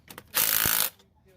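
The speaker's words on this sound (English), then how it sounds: "Get your 9/16 socket with the impact gun. And just go down until the nut bottoms out." An impact gun with a 9/16 socket runs a battery terminal nut down in one short, loud burst of about half a second, with small clicks before and after.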